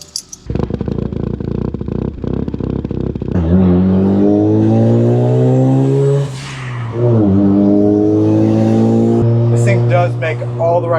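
A Mazda RX-7 FD with a single-turbo rotary engine idles with a choppy, pulsing burble, then revs hard and sweeps up and down in loud, close, sustained pulls.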